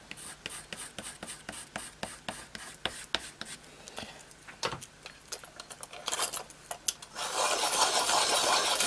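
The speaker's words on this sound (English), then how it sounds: "Just sharpen up again." A colored pencil is sharpened, with rhythmic scraping strokes repeating quickly over several seconds. The strokes end in a sustained hissing rasp, all close and fairly quiet.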